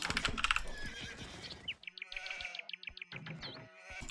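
Sheep bleating in the Age of Empires II video game, several short repeated bleats in quick succession after a brief burst of game sound effects, with no talk over them.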